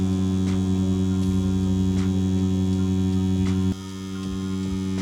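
Cheap battery-powered tattoo machine running with a steady close buzzing hum and strong tonal whine, a slight shift in pitch near the end while it keeps going.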